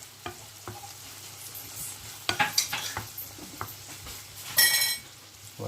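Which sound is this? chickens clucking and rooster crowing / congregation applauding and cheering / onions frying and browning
onions frying and browning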